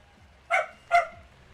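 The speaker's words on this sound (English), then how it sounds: "having your dog bark while you're recording" One dog gives two sharp barks in quick succession, fairly close, against a quiet, low background hum.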